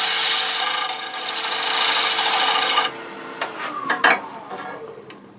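A negative rake scraper takes a light cut across Bradford pear side grain on a lathe, a loud steady rasping hiss for about three seconds, then it stops, leaving the lathe's whine with a few light taps and scrapes.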